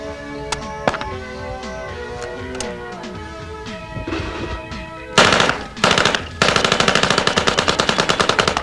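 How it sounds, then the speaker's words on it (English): An Uzi submachine gun, the compact 1950s design based on the Czech 23 series, fires loud rapid automatic bursts up close, first some scattered single shots over a music-like background, then sustained rattling strings of fire. "the Uzi is one of the best and most popular submachine guns in service today"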